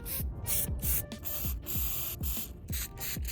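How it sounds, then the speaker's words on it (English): Spray paint hisses from an aerosol can in repeated short bursts while a secondary color is applied over taped-up surfaces, each spray sharp and close with brief pauses between. "we can actually spray with the secondary color right here."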